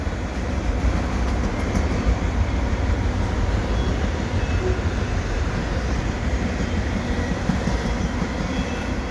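A CN freight train hauling auto rack cars rolls slowly through Dorval near Montreal, with a steady low rumble and wheel clatter sustained throughout, close by and loud, with no voices.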